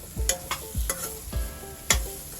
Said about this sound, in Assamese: আলুটো ভালদৰে ভাজিম মই